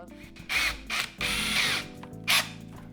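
Power drill with a tungsten carbide masonry bit boring into a DM board surface, in several short bursts of whining, grinding drilling separated by brief pauses, loud and close.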